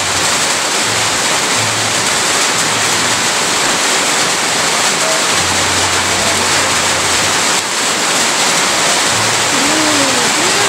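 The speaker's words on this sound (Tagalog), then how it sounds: "Lakas po ng ulan." Heavy rain pours down steadily in a loud, dense hiss that stays constant throughout, with faint low voices briefly under the downpour.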